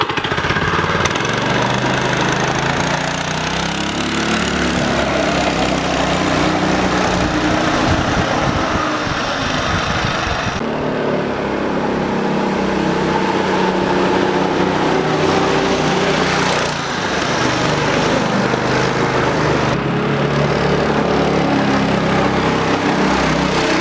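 A homemade go-kart's small single-cylinder engine, governor removed, runs loud and close for the full stretch, revving and easing with buzzy rattling roughness, occasionally dipping before picking back up.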